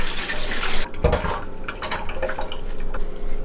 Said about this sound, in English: I'm just going to strain them now to get rid of as much of the water